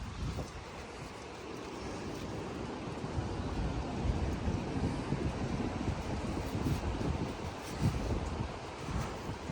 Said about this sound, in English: And it's really windy, guys.